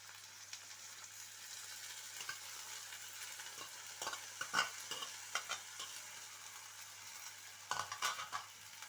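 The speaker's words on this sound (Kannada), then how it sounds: "ಇವಾಗ ಅದರ ಜೊತೆಗೆ ನಾನು ಮೆಂತ್ಯ ಸೊಪ್ಪನ್ನು ಹಾಕೋತಾ ಇದ್ದೇನೆ" Fenugreek leaves being stirred into a frying pan for methi palya, a soft steady sizzle under repeated scraping and stirring clicks, a few louder strokes near the end; no voices.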